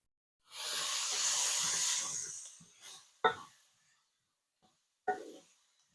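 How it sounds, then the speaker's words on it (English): Onions hit a pot of hot olive oil with a loud, steady sizzle that fades over a few seconds, followed by a couple of sharp knocks and scrapes from stirring. "I'm just going to add a little bit more olive oil as we let these onions cook a little bit."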